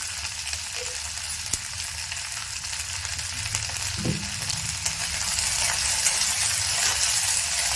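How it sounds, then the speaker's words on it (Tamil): Steady sizzling and crackling of drumstick (moringa) flowers sautéing in hot oil in a frying pan, with occasional stirring scrapes and clinks in the pan. "பூவை போட்டு நல்லா வதக்கிடுங்க."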